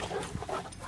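A young dog pants in quick, soft, close breaths, with a faint whimper mixed in.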